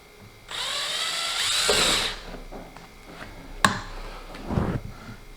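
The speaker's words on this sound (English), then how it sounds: "we're going to start all of our holes with a 1/16 drill bit" A small 1/16-inch bit drills a starter hole during a thermostat kit install on a 2022 Kawasaki KLR650 Adventure, giving one high, whining power-drill burst of about a second and a half, followed by a few sharp clicks and knocks.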